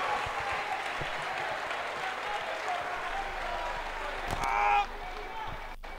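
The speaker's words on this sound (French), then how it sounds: "Sous vos acclamations, des acclamations, s'il vous plaît." A congregation at an evangelical church gathering applauds and cheers, with dense clapping and crowd voices rising under the hall's reverberation, swelling briefly near the end before settling back down.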